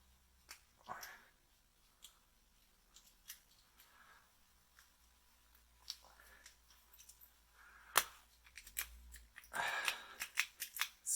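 A FRAMON SD2 key machine code-cutting a Hon66 key gives sparse clicks and scraping bursts that build into a denser cluster of sharp cutting noises near the end, with no talking.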